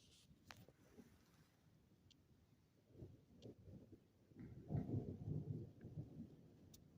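Thunder from a spring thunderstorm rumbles low and distant, swelling into a deeper roll midway through. Faint rain and gusts sit underneath.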